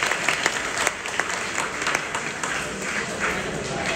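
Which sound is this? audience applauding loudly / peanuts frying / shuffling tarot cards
audience applauding loudly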